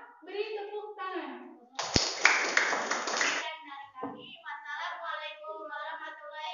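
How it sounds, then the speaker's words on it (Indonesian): A classroom audience applauds a student presentation group, a burst of clapping hands lasting under two seconds, loud and close, set between stretches of speech before and after. "Untuk kelompok 2 beri tepuk tangan."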